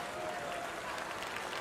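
Crowd applause and a standing ovation at a theater show in the video game Red Dead Redemption 2, a brief dense burst of clapping heard evenly throughout at moderate volume.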